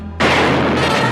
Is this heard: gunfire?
yes